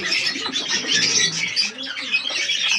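Giribaz pigeons in a home loft, including Kaldoma and Chocolate Doma birds with young chicks, fill the space with dense, continuous high chirps and squeaks over soft, low coos, close and steady throughout with no one talking.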